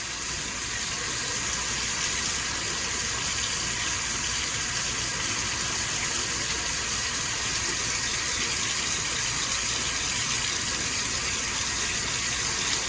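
Tap water runs steadily into a sink during handwashing, a loud, continuous close gush that never lets up, with no voices over it.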